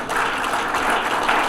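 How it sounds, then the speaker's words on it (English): Sustained applause from a chamber of commerce luncheon audience, steady broadband clapping from many hands filling the room at an even level, with no talk over it. "I'm not saying that to get you to clap your hands"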